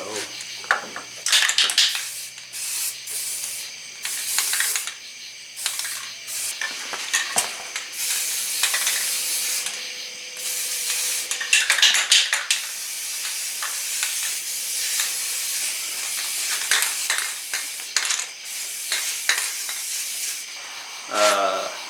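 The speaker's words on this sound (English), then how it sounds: "now I'm going to put a little sealer primer underneath and kind of on the parts that sort of need it" Sealer primer sprayed underneath a rusty car's rocker and floor pan, heard as bursts of hissing spray that start and stop repeatedly, close and fairly loud, with faint background noise between passes.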